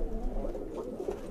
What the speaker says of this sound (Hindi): ये मोती वाला कबूतर।